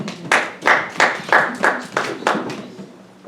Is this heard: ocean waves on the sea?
no